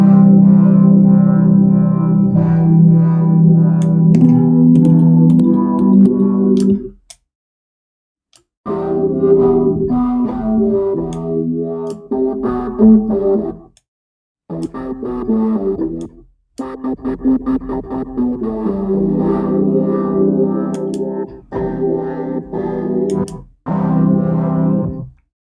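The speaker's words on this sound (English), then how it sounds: "This is a very fancy looking and beautiful delay, kind of modeled over the echo." Algoritm FM synthesizer played through an echo-style delay effect: sustained harmonic tones and chords with repeating echoes, stopping abruptly in several silent gaps between phrases.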